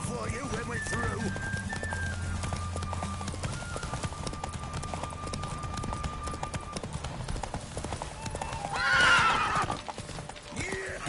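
A horse gallops in The Witcher 3: Wild Hunt with rapid, continuous hoofbeats, a loud neigh rising near the end, and a voice talking over the running.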